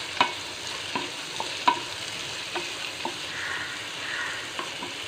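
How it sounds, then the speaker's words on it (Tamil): A cup of small onions (shallots) sautés in a pan for chicken chinthamani, with a continuous sizzle broken by several distinct clinks and scrapes of stirring. "இப்போ நான் சின்ன வெங்காயம் ஒரு கப் எடுத்து இதை நம்ம வணக்கி எடுத்துக்கலாம்"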